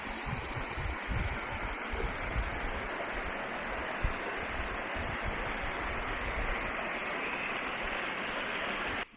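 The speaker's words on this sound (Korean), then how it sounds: "민가 앞에 있는 개울인데" A mountain stream runs past village houses along a Gapyeong valley hiking trail, a steady broadband rush of flowing water that stays constant and fairly close for about nine seconds with no voices.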